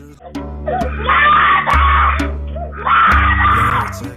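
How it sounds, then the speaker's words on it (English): A barefoot little girl a few years old screams and cries outdoors after her parents' departing car in China around New Year, with two long, loud, wavering wails close by over a low background hum. "A little girl only a few years old, barefoot and with disheveled hair, runs outside, screaming after the departing car of her parents."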